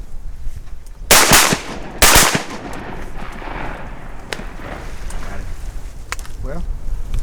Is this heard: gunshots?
yes